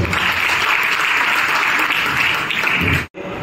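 An audience at an award ceremony honouring writers, poets and journalists breaks into dense, steady applause that fills the room, then cuts off abruptly near the end.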